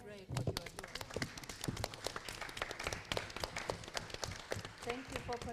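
An audience at a research and innovation conference claps, a dense patter of hands rising quickly and continuing steadily throughout at moderate loudness.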